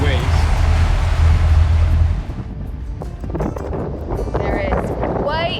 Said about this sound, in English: There is quite a bit of chop out here.